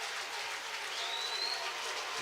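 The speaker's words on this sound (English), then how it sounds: "And now the crowd comes to their feet." A baseball crowd at a night game applauds as fans rise to their feet with two strikes on the batter, a steady, dense wash of clapping and cheering that holds throughout without talk.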